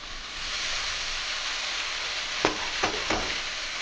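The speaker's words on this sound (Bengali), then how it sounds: "এবারে আমি মোচাটাকে দিয়ে দিচ্ছি।" Chopped banana flower dropped into a pan of frying spice paste, a broad steady sizzle with a few sharp bursts as pieces land near the end.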